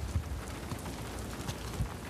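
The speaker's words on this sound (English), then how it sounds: "It's raining." Rain falls in the video game Uncharted: The Lost Legacy, a faint, steady hiss with a few soft low thumps scattered through it and no talking.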